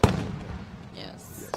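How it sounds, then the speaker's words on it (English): Fireworks at a stickball tournament event: a loud opening boom with a rolling tail, a hissing crackle midway, and another sharp burst near the end, heard outdoors at a distance. "Oh, that was a nice Display of fireworks."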